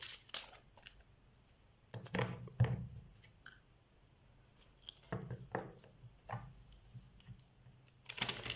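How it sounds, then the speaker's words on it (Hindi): Tarot cards being shuffled by hand, heard as crisp papery riffles and clicks in several short bursts separated by quiet pauses, close and fairly soft. "हम कार्ड शफल कर लेते हैं।"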